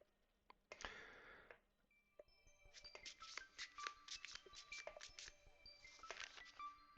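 A huge deck of cards is riffled and shuffled as a tabletop game sound effect, with repeated crisp riffling bursts and rapid flutters of card edges, fairly close and loud, with no talking over it.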